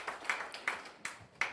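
An audience claps after an inspiring talk at an agricultural and technical high school alumni gathering, a faint, sparse run of about five separate claps at a steady pace.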